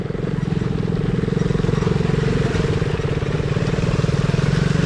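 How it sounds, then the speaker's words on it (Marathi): A motorcycle engine chugs close by in a fast, even pulsing rhythm, running steadily throughout as the bike rides through mud on Malshej Ghat in the monsoon. "कंटाळलो बाईक चालून असं यार चिखलातून"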